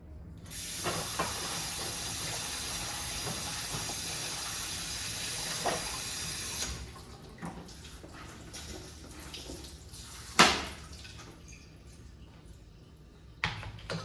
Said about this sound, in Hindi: और इसको अच्छे से वॉश कर लेते हैं।